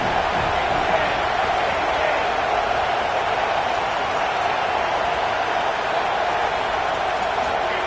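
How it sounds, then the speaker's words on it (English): Broad, steady roar of a stadium crowd cheering on third down in the College Football 27 video game, a dense continuous wash of voices that holds loud and even throughout with no single standout shout. "Decibels rising as the crowd gets behind this defense on 3rd down."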